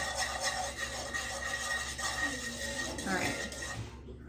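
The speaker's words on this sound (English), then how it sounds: "And I'm gonna whisk this up." A whisk scrapes and clinks against a pot while stirring a Swedish meatball sauce with soy sauce, soft rhythmic rubbing sounds that fade out at the end.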